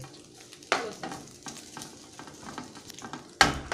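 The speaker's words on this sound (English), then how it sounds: "So I'm going to add my bacon. Leave it to get crispy." Bacon crisping in a pan makes a continuous soft sizzle, broken by two sharp stirring scrapes at the start and the end, close by, with no voice.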